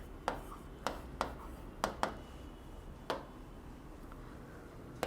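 A pen writes out a math solution by hand on paper, giving soft, close scratchy strokes with sharp taps at irregular intervals, faint and alone.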